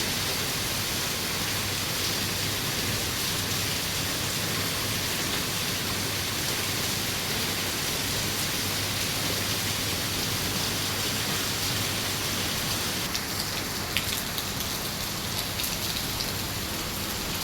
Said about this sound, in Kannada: ಮಳೆ ಸೌಂಡ್ ಜೊತೆಗೆ ವಾಟರ್ ಫಾಲ್ ಸೌಂಡ್ ಕೇಳಿಸ್ತಾ ಇದೆಯಲ್ಲ